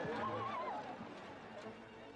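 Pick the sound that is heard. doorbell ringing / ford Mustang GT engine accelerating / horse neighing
horse neighing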